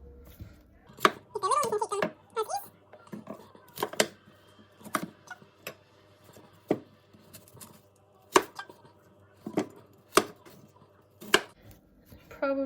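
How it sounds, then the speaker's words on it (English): A knife chops broccoli stalks on a cutting board, a dozen or so sharp, close, irregular knocks spaced a second or so apart, with brief rustling and a short voice between cuts. "Now I'm just going to cut off the stalks and then just chop them in half."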